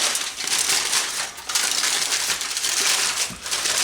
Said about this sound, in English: I'll wrap up the bone anyway, just so it gives me something to grab, and this foil is also going to help keep everything together.